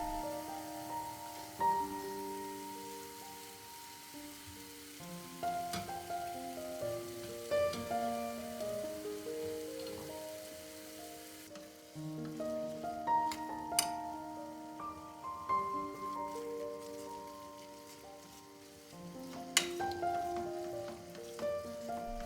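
Minced meat (keema) frying in an uncovered pan over high heat, a steady soft sizzle running throughout with occasional clinks and scrapes, and tonal kitchen background sounds layered over it.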